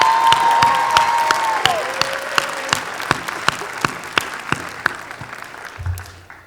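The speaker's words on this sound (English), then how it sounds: "Let's give him a hand of applause." An audience claps at a Black graduation celebration, loud and dense at first and then thinning into scattered individual claps, with a sustained tone fading out early on.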